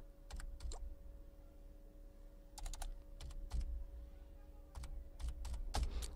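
Someone typing an OTP on a computer keyboard, several short bursts of quick key presses separated by pauses, close and clear over a faint steady electrical hum.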